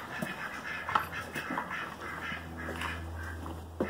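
Ducks quack and chatter nearby in short, irregular bursts over a low steady hum, one call standing out louder than the rest.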